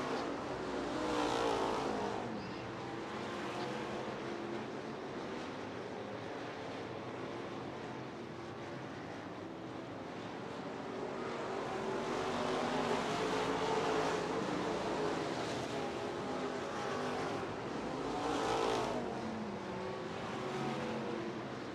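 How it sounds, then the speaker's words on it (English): Dirt-track race cars at 141 Speedway during the King of the Creek event roar continuously, engines swelling and fading as they pass, loud and alone. "Then Caden Reynolds, he is searching entirely all over this racetrack"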